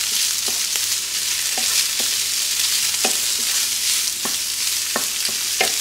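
Bacon fries with onion in a pan, a loud continuous sizzle with regular spoon scrapes and taps as it is stirred.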